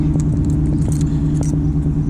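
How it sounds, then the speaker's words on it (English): Car keys jangling inside a moving car, a Dodge muscle car: light metallic clinks and rattles scattered over a steady low engine and road hum, close and fairly soft, with no speech. "damn, I got the wrong keys"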